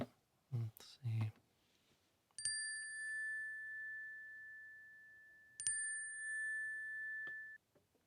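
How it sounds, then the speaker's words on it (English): A bell rings by accident twice, each a bright struck ding that rings on and slowly fades, the second a few seconds after the first, following a short burst of quiet voice. "I didn't mean for that bell to go."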